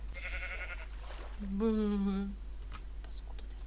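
A ram in a video game lets out one clear, wavering bleat under a quiet hum, with brief speech just before it.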